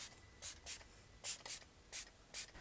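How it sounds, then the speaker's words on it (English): Wet n Wild No Bad Days Hydrating Setting Spray mists out in about seven quick, soft, airy spritzes at an uneven pace, close up and quiet, with no talking. "This is the No Bad Days Hydrating Setting Spray."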